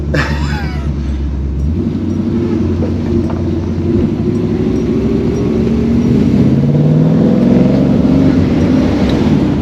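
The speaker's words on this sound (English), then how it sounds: "She sounds alright." A Holden HT with a swapped-in V8 engine runs loudly and steadily nearby, its deep rumble building slightly in pitch and intensity toward the end.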